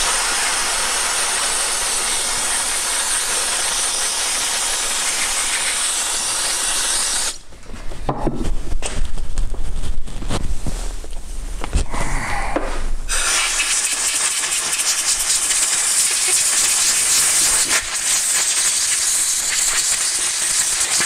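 Brake cleaner sprayed onto Husqvarna 365 Special chainsaw parts: a loud, continuous close aerosol hiss, broken by several seconds of clattering and handling of parts before the steady spray resumes.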